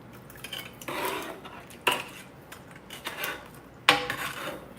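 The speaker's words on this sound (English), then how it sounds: "I will stir it for you" A spoon scrapes and clinks against a pot of Louisiana gumbo full of meat, in several bursts of stirring with loud metallic knocks, close up and without talk.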